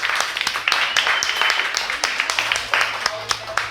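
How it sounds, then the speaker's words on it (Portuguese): Scattered applause from a small audience at a bar talk in Bardallos, a patchy burst of claps with voices chatting over it. "E aqui uma salva de palmas para Plínio Sanderson."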